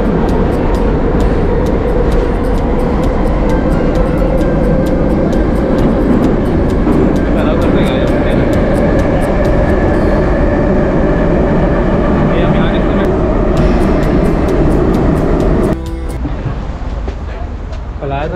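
A loud, steady rumble of a Baku metro train running through a tunnel, with a high whine over the roar and a shift in tone near the end.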